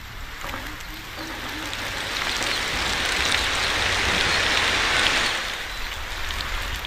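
Heavy rain pours down steadily, a dense, close hiss that swells slightly and then holds, with no voices.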